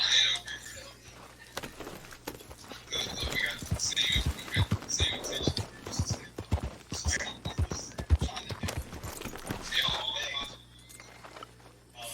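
Horse hooves in Red Dead Redemption 2 clip-clop in an irregular run of soft, fairly close thuds, with quiet, whispery voices over them.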